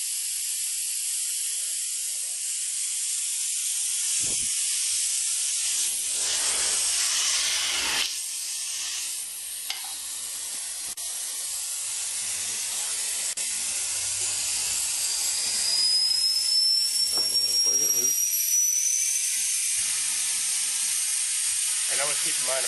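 Air hisses out of a car tire with a slow leak as its valve core is removed, a loud bright rushing hiss that surges and wavers throughout with faint voices in the background.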